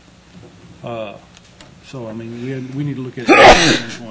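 A single sharp sneeze bursts out near the end, right after someone speaks a short sentence, loud and close in a quiet room.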